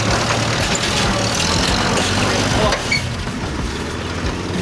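A 1948 Willys CJ-2A Jeep engine labors steadily while climbing an off-road obstacle. The deep, rumbling drone is loud and close and eases slightly after about three seconds, with crunching and outdoor noise mixed in.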